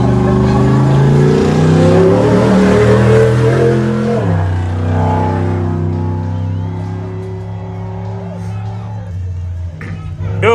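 Off-road race vehicles in a desert qualifying race rev loudly at the green-flag start, steady engine drone with shifting pitch, fading slightly, under a commentator talking.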